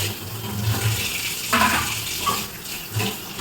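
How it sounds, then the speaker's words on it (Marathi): A household tap fills a water pot at home, a steady close running pour with small shifts in pitch as the vessel fills. "तर आता पाणी भरून झालेलं आहे."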